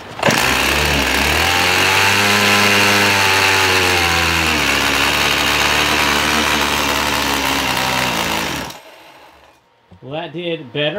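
Husqvarna 50 Rancher chainsaw engine running loud and steady for about nine seconds after its low-side carburetor screw is opened another turn, then dropping off abruptly before someone speaks briefly.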